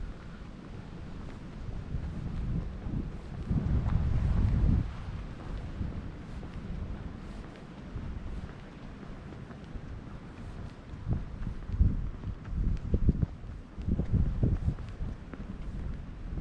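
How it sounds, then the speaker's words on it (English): Wind buffets the microphone at a chilly lakeside campground in January, low rumbling gusts that swell and fade unevenly throughout, with no one speaking. "It's windy. Sorry about the wind today."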